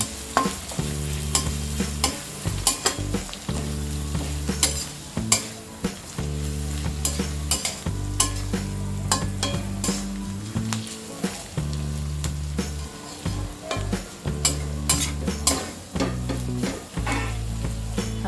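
Onions sizzle in a pan with turmeric and sea salt while a utensil stirs and scrapes them in steady, rhythmic strokes, close and continuous, with no talking.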